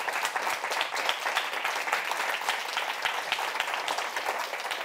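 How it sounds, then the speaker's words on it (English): An audience at a science pitch competition applauds the contestants, a dense, even burst of clapping sustained for several seconds without a break. "So can we have a big round of applause for all the contestants,"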